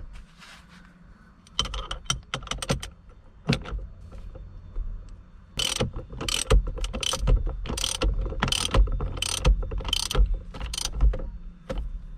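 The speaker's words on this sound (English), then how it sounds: "Tight the nut with 79 Newton-meter torque." A torque wrench tightens the steering wheel nut on a BMW E30, giving bursts of sharp, close ratcheting clicks that start sparse and become rapid and loud in the second half.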